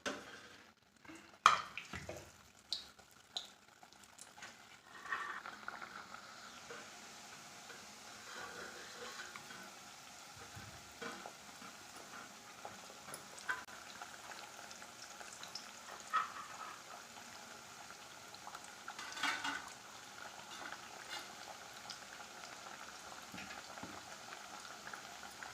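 Thattai rice crackers deep frying in moderately hot oil, a steady soft bubbling sizzle with a few clinks and taps of utensils early on, close but quiet, no speech.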